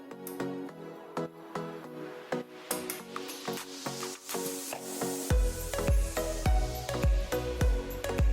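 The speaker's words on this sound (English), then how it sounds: "And I'm still stirring my stew." A spoon stirs a pot of stew, making soft scraping and sizzling sounds close by. Rhythmic knocks against the pot come in from about halfway through over light background music, with no speech.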